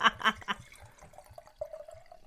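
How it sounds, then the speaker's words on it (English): A drink being poured into a glass, the gurgle rising steadily in pitch as it fills, close and fairly quiet, following a brief murmur of voices at the start. "Hold it. Pour it up."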